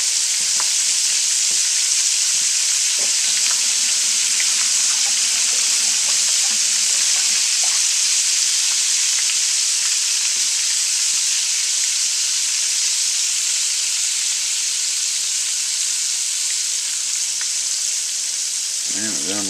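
Wild game meat fries in butter in a pan, giving a loud, continuous sizzle and crackle with occasional faint clinks, holding steady throughout.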